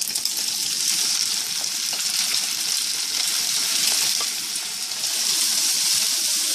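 Fried noodles dropping into a hot frying pan with cooking egg, giving a loud, steady, bright sizzle that holds for the whole stretch with faint stirring scrapes and no voices.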